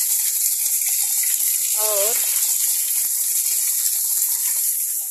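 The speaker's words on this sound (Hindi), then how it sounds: "आज तेज बारिश हुई है इतना दिन के बाद" Heavy rain pouring down in a village, a loud steady hiss of falling water right up close, with water flowing into the kitchen. A voice speaks briefly under the constant rush.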